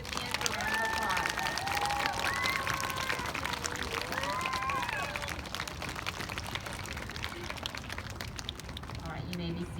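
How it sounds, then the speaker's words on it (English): Applause from a school assembly audience of young elementary students and families honoring award recipients, a steady dense clapping wash throughout with crowd murmur and some chatter, gradually thinning toward the end. "let's give all of our personal success recipients a round of applause"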